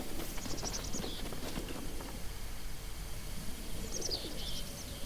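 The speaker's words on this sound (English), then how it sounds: "That's a bird" Soft bird cooing from a pigeon-like bird in Zelda: Breath of the Wild, heard over a steady outdoor game ambience with footstep-like clopping, a couple of short call phrases near the start and end.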